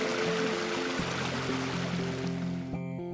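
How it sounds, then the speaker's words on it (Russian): A spring stream runs through a rocky gorge in the Judean desert, with a steady broadband rush of flowing water and faint trickling that continues throughout and cuts off near the end. "В глубине этого ущелья и протекает источник Прат, библейский Малый Ефрат Иудейской пустыни"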